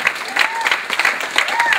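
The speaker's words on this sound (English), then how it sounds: "So I think a round of applause is deserved." An audience at a ballroom dance event applauds Australian ten-dance champions, a dense and lively burst of clapping with an announcer's voice carrying over it.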